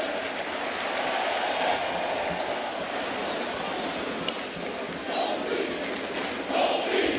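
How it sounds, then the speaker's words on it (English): Large crowd at a Yankees home game against the Minnesota Twins, with bleacher fans cheering as a steady, dense roar that swells slightly near the end, continuous and broad throughout. "Crowd is into it tonight early on"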